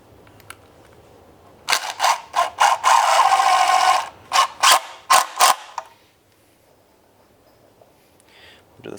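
Screws are driven through a furring strip into an X-Bracket during basement insulation install, heard as close, loud bursts of a power driver whirring in short pulses, one sustained run then several quick stop-start spurts, with no talking.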